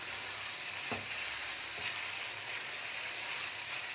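Spiced masala for mutton keema sautés steadily in a pan over a medium gas flame, a continuous close sizzle with a couple of soft scraping stirs.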